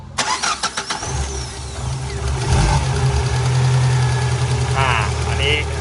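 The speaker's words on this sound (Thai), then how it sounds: "เครื่องสตาร์ทติดได้นะครับ" A Tata car engine with a misaligned timing mark and a rough, stumbling idle cranks in a few rapid starter pulses, catches and settles into a steady, close idle, with a voice heard briefly.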